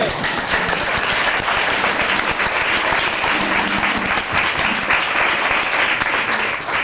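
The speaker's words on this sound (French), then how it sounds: "On l'applaudit, s'il vous plaît." A loud audience applauds a new female contestant at a lively stage show, a dense, close and continuous burst of clapping with faint crowd noise mixed in.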